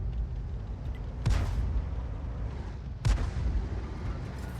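SU-8 self-propelled gun in a video game firing artillery rounds: two heavy booming shots about two seconds apart over a low rumbling engine and battlefield drone, no talking.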